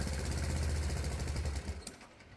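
A diesel engine being fed truly awful alternative fuel, running loud and rough with a dense clattering drone that suddenly drops away and fades near the end.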